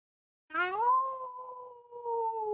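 A lone canine howl rises and then holds a long, wavering tone, clear and fairly close with no talking over it, starting after a short silence.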